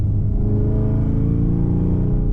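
A 708 wheel-horsepower Chevrolet Camaro ZL1 1LE pulls hard under acceleration, its deep, loud engine roar heard steady and close from inside the car, easing slightly at the end.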